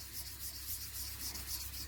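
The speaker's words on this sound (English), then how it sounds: "It does take quite a bit of sanding to sand them off" Steady, continuous scratchy rubbing of sandpaper against a small hard polymer clay pendant, quiet and close, with no pauses or talking.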